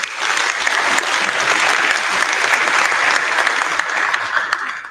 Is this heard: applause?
yes